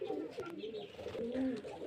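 Soft pigeon coos roll in low, repeated phrases close by from a male pigeon, gentle and continuous, with faint rustling behind.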